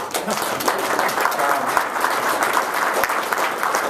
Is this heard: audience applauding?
yes